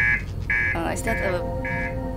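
A spaceship master alarm in the Outer Wilds video game, a harsh repeating electronic buzz sounding in bursts while a person talks over it.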